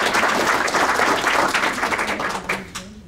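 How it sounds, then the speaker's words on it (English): Sustained audience applause for two speakers at a mental health wellness event, dense and steady before tapering off near the end. "another round of applause for their"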